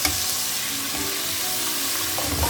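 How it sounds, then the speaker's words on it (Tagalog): Sun-dried tomatoes fry in oil in a kitchen pan, giving a steady, close sizzle that holds at an even level from start to finish with a few soft stirring sounds and no voices. "You can add it in. And just fry it a little bit in oil."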